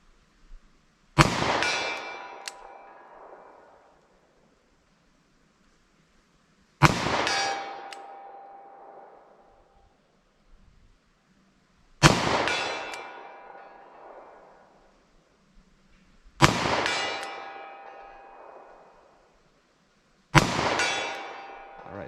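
Five loud metallic clangs from 10mm Auto revolver rounds striking a steel target, each a sharp ringing impact that decays over a couple of seconds, spaced several seconds apart with quiet gaps between.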